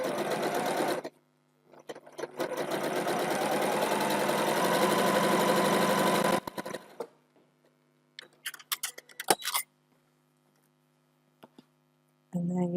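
A sewing machine stitches quilt strips for four-patch blocks in a close, fast whirring run of about five seconds, then stops; scattered clicks and handling noises follow before the motor starts again briefly at the end.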